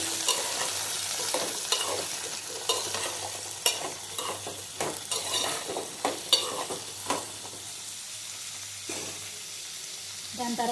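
Eggplant pieces and mixed vegetables fry in a pan, with a steady close sizzle and repeated scraping stirs that clatter against the pan throughout.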